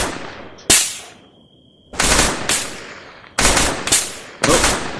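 Heavy gunfire in a military video game: several loud, close broadband bursts, a sharp crack followed by sustained automatic fire in clustered volleys with decaying tails, separated by brief quieter gaps with a faint steady tone.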